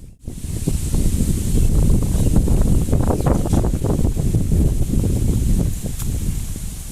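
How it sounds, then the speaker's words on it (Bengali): Steady, loud wind blusters across the microphone in an open park at Ullapara, a continuous rushing roar with no pauses and no voices. "অনেক সুন্দর বাতাস বইতেছে এখানে"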